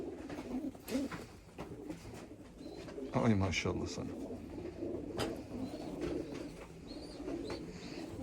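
Crested Rakkas pigeons coo softly in the background while someone speaks over them, with low throaty calls recurring through the talk.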